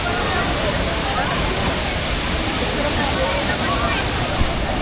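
A mountain waterfall of clear, cold water in Majayjay, Laguna pours as a constant, full-bodied rush, close and loud, holding steady from start to end.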